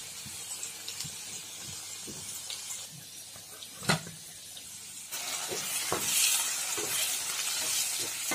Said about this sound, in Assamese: আদা নহৰু কেঁচা গোন্ধটো যোৱালৈকে এইখিনি মই ফ্ৰাই কৰি ললোঁ